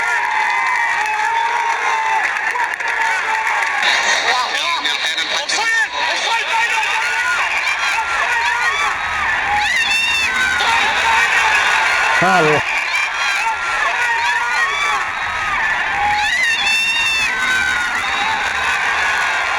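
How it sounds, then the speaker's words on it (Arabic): Egyptian football supporters roar through a World Cup match against Argentina, a dense, constant wall of crowd noise with cheering swells, while a commentator talks over it throughout. "مع صوت الجمهور المصري"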